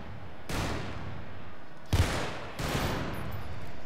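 Gunfire in Garry's Mod DarkRP: three loud broadband shot bursts, each with a long decaying tail, the second carrying a sharp thump, spaced about a second apart with no talking.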